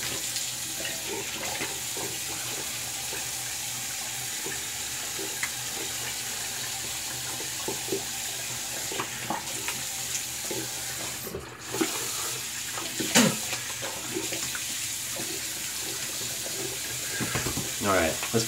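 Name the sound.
tap water running, rinsing shaving gear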